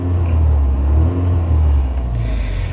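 A remapped Rover Streetwise 1.4 K-series engine with a tweaked exhaust idles close by, a loud steady low rumble with a slight pulsing note and no talking.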